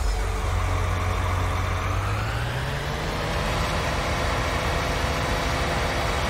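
A John Deere tractor engine idles in the farming game Farming Simulator 19. A loud, low diesel rumble holds steady while its pitch climbs slightly partway through, with no voices.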